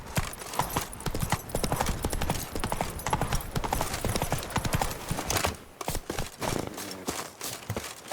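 Roach, a horse in The Witcher 3 video game, clip-clops with rapid steady hoofbeats throughout, close and clear over game ambience, with a brief pause near the end.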